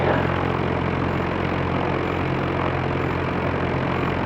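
A Zenith CH 750 Cruzer light aircraft holds on the runway at Mexico Airport, its propeller engine giving a steady, loud droning hum with a low, even throb and no talk over it.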